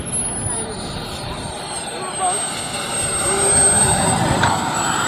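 Carf Models Bolt turbine model jet coming in to land at a Warbirds and Classics air show in Delaware, a steady whining jet roar that swells as it nears, with people talking over it.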